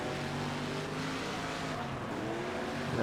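Race car engines roar steadily in a dirt-track racing video game as lapped cars come around, a continuous, dense drone of motors with no pauses.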